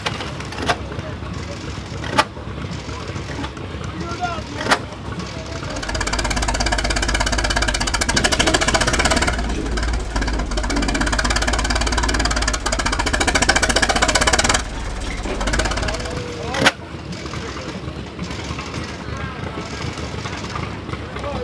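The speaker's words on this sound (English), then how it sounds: "it might very well hit every time because it's working under such a load. And these were Fuller Johnson made engines from 1899 to 1933" An antique Fuller Johnson gas engine, built between 1899 and 1933, runs under heavy load at an outdoor antique engine and tractor show, a loud, continuous chugging rumble that swells in the middle section, with talk intermittently in the background.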